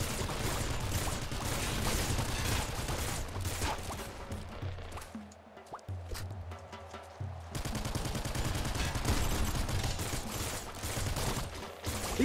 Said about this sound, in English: Where are all these shots coming from?